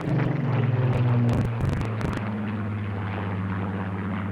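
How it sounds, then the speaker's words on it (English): A Spitfire propeller aircraft passes overhead in salute at Filton airfield, Bristol, with a loud, steady engine drone and harmonic hum that peaks early and then eases slightly as it moves away, and no voices. "Overhead, a Spitfire flew past in salute."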